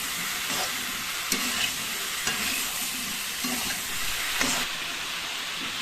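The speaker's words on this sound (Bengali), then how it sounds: "দিচ্ছি 1 চামচ হলুদ, 1 টিস্পুন নুন দিয়ে ভালো করে নাড়িয়ে নিচ্ছি।" Winter vegetables sizzle in a pan with turmeric and salt while a utensil stirs them in regular strokes about once a second over a steady frying hiss.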